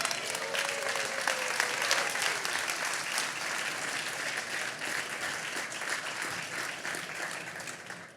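Sustained applause from a large conference audience at a keynote stage event, dense and steady throughout, with a faint voice briefly audible near the start.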